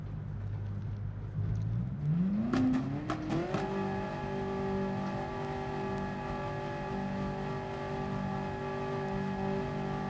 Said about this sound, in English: I'm in a 458 Ferrari Group 4